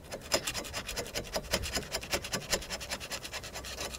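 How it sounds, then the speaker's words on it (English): A flat screwdriver scrapes rust and leftover rotor material from the rear wheel hub of a 2007-2010 Mini Cooper, giving loud, close, rhythmic rasping strokes in quick succession with no talking. "We're gonna scrape that down with a flat screwdriver."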